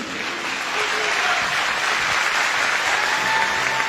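Sustained audience applause after a Turkish poetry recital by Cemal Safi, dense, steady clapping from a large crowd filling the whole stretch with no voices on top.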